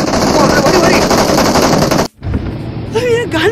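Rapid automatic gunfire in a Rush mobile shooting game, loud dense bursts for about two seconds, then a brief cutoff and quieter game sounds with a voice speaking over them.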